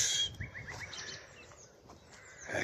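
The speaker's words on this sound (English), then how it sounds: "First nightingale of the year." A nightingale sings early in the morning at Rainham Marshes, a short run of quick rising whistled notes and chirps, moderately distant over a soft outdoor hiss.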